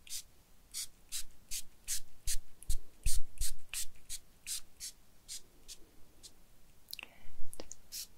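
A spray bottle mists hair during a beach-cabana spa haircut, giving a quick series of short, soft, close hisses in an uneven rhythm, with faint handling rustles between bursts.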